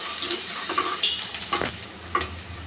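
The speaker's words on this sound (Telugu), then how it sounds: "కట్ చేసి పెట్టుకున్న ఎర్రగడ్డలు వేసి బాగా ఫ్రై చేసుకోవాలి" Onions sizzle as they fry in a pan for egg fried rice, a steady close hiss with occasional stirring scrapes and small clinks, no voices.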